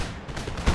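A musket volley from the video game Empire Total War, a rolling, crackling burst of many shots that swells toward the end of a short, loud moment of battlefield noise.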